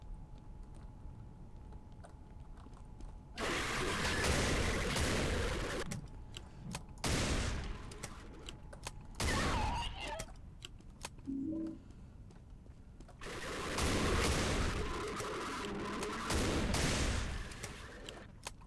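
AK rifle fire in the shooter game Doom, coming in several loud sustained bursts of rapid shots separated by quieter gaps with faint game ambience.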